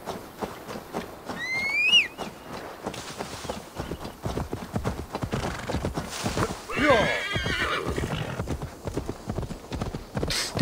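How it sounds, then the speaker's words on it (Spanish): A horse in the video game Assassin's Creed Valhalla trots with steady clip-clop hoofbeats and lets out a loud whinny near the two-second mark, with a voice speaking now and then over the hooves. "Caballito."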